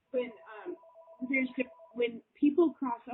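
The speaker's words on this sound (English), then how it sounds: "Oh, my mom's phone's ringing." A mobile phone rings indoors as a steady electronic tone under continuous close speech, the ring running faintly behind the voice for most of the clip.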